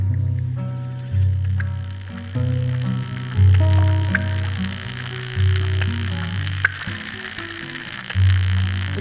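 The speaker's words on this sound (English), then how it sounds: "this is the sound of aquatic plants photosynthesizing" Aquatic plants photosynthesizing underwater, tiny air bubbles escaping leaf stomata, give a warbling synthesizer-like drone with low tonal swells every couple of seconds and sharp little ticks and pops on top, close and steady.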